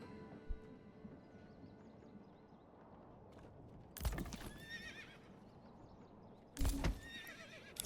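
Horses in the medieval village-building game Manor Lords, with two loud close neighs and whinnies over steady clip-clop hooves and low game ambience.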